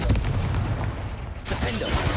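Fiery Confringo blast in Hogwarts Legacy, a dense booming burst with a sudden crackling flare near the end, loud and close, with no talk over it.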